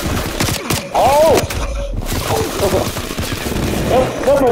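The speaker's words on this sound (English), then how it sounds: "This man got a whole minigun." Minigun firing in the video game Call of Duty: Black Ops Cold War, loud sustained bursts of rapid gunfire filling the whole stretch, with a player's excited exclamations and gasps over it.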